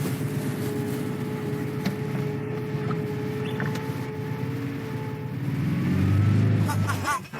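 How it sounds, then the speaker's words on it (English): A Zaporozhets car on its first test drive in icy weather, its engine droning steadily with tonal whine, then rising louder near the end as it revs or accelerates. "our driver is testing his car for the first time ever"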